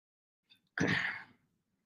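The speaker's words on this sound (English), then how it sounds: "I'm gonna have to blow my nose." A single short, breathy nasal blow, close and fairly quiet, preceded by a faint sniff, with silence afterward.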